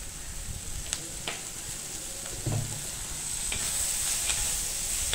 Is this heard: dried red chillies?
yes